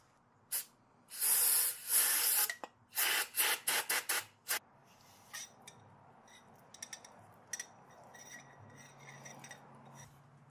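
A 20-gauge shotgun bore brush scrubs through a motorcycle fork damping rod on a 1991 KDX200, making loud harsh scraping and hissing strokes in fast bursts that fade to faint scattered scrapes and clicks.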